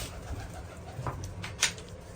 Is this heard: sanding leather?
no